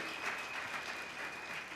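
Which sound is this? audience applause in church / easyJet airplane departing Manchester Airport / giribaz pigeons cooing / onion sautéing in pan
audience applause in church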